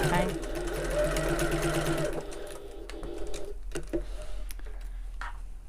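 A sewing machine stitches the side seams of a fabric bag in a steady fast run for about two seconds, then stops into scattered clicks and handling noises.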